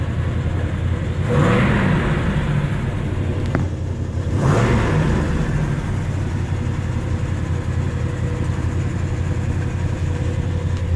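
A 1970 W-30 V8 with a four-speed revs in two loud blips over a steady burbling idle, close by and without talk.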